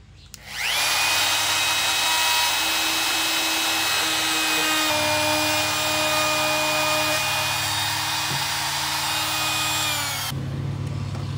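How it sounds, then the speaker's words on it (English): A woodworking router fitted with a chamfer bit cutting along the edges of a dining table built from flooring, spinning up to a loud steady high-pitched whine that holds for about ten seconds before winding down. "I've switched to a chamfer bit, and I'm just going to chamfer the edges so it never gets broken."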